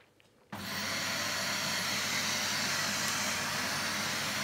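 A Dyson DC39 vacuum cleaner switches on abruptly after a half second of near silence, then runs with a steady whirring motor drone and airflow hiss, close and constant.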